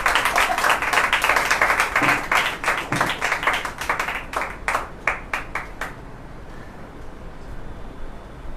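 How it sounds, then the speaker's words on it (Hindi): A church congregation at a Holy Wednesday service breaks into loud, dense applause that thins into scattered individual claps and then fades to quiet room tone after about six seconds. "ठीक है, बजा सकते हैं जोरदार ताली।"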